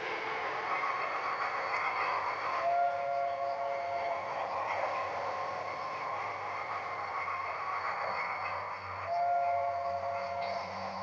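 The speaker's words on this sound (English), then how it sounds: "it's running a real train" A real train running on a backyard garden railway, a steady rolling rumble with two short whistle blasts partway through and near the end, fairly loud and continuous with no talk.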